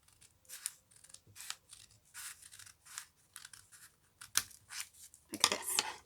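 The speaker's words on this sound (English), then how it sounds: "you can keep the quarter that you've just cut folded in, and then cut it on the other side." Scissors snip through folded paper in a run of crisp, close cuts at an irregular pace, ending in a denser burst of rapid snipping.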